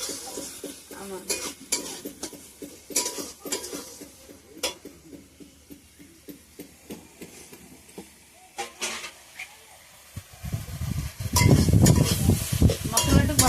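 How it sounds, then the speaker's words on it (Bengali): Spices frying in a pan for a Bengali recipe, stirred with a utensil in a run of close scraping and clinking strokes over a soft sizzle that swells into louder frying near the end. "মশলাটা ভাজা হয়ে গেছে"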